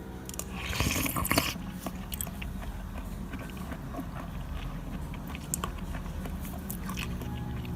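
Crunchy Isan mushroom curry made with hed phueng mushrooms chewed close up, with steady crisp biting and munching noises and a louder burst near the start.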